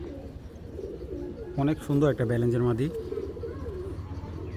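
Racing pigeons, a large breeding pair, coo in low throaty bursts close by, with someone talking over and between the calls.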